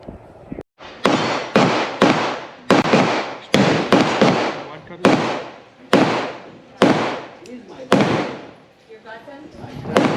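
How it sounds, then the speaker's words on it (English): Nine sharp, loud gunshots from a Cimarron El Malo single-action revolver, fired one at a time at uneven intervals of about a second, each ringing out and decaying before the next. "The first 9 rounds out of the El Malo."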